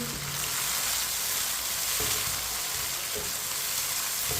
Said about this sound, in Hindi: अब इसे 3 मिनट के लिए पका लेते हैं टमाटर को